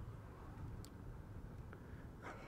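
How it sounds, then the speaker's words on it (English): Low steady rumble of traffic and a car engine heard from inside a moving car, quiet and continuous with a few faint brief clicks over the hum. "all you can hear is a bit of traffic humming in the car's engine"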